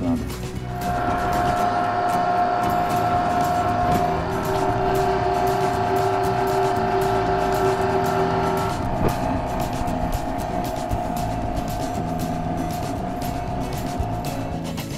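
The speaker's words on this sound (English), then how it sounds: "that meat that we got all squared away yesterday in the mixer goes down through this meat grinder" A heavy-duty meat grinder works venison and beef summer sausage meat with a loud, steady motor drone and sustained whine that runs unbroken for the whole stretch.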